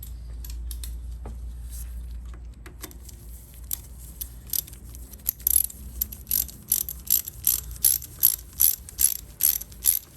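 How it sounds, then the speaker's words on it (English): A hand ratchet tightens 10 mm bolts on an Acura RSX power steering unit, starting with scattered clicks and building into a regular series of close, sharp ratcheting strokes. "And then we'll tighten them down with the ratchet."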